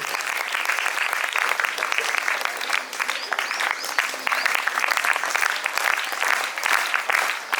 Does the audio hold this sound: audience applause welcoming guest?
yes